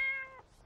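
A single short meow from a modded cat in Skyrim Special Edition on Xbox One X, close and fairly soft, tapering off quickly into quiet.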